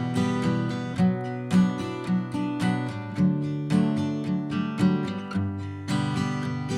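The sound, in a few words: acoustic guitar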